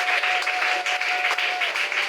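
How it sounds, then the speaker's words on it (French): A church congregation at a Wednesday teaching service applauds for the King of Kings, steady dense clapping filling the whole stretch with an even crowd roar, no voices standing out. "Est-ce que nous pouvons acclamer pour le roi de rois."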